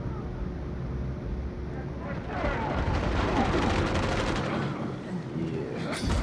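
Gunfire in the video game Uncharted 4, a dense continuous rattle of shots and bursts that swells in the middle, loud and busy under game noise.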